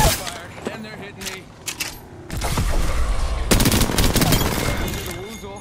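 Video game gunfire rattles in bursts of rapid automatic shots that build into a dense, continuous barrage, loud and close, amid chaotic game effects.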